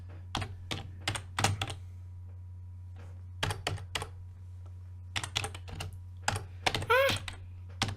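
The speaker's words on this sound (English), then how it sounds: "Zoe, can you start typing with both hands?" Bursts of typing on a computer keyboard, clusters of crisp key clicks separated by pauses, close and fairly quiet over a steady low hum, with a brief squeaky sound near the end.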